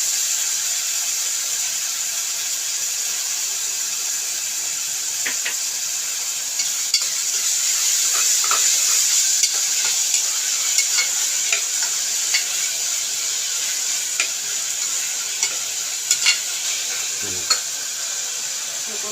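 Tomatoes sautéing with rock salt in a pan, a steady high hiss of frying with scattered soft stirring scrapes and occasional light clicks throughout, no voices.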